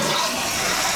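Toilet flushing after a lever replacement, with a small float on the flapper chain holding it open; a steady, loud rush of draining water fills the whole second with no speech.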